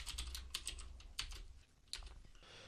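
Quiet typing of a Python program on a computer keyboard, a run of light, uneven key clicks up close with a few sharper taps and brief pauses.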